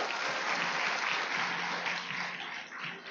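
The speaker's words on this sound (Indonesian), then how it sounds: "Beri aplaus yang sangat luar biasa buat beliau." Sustained audience applause at a motivational business presentation, steady dense clapping from a crowd filling the room at moderate volume throughout, easing slightly toward the end.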